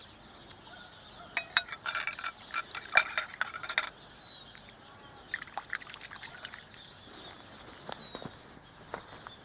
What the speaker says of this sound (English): I'll just wash it again and show you what the slices are like.